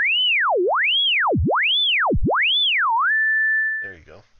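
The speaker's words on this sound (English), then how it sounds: "Now I'm bending it up with the mod wheel." A Pure Data FM synth tone swoops up and down in repeated wide pitch bends driven by a mod wheel, then settles on a steady held pitch before a brief voice cuts in at the end; bright, pure and loud.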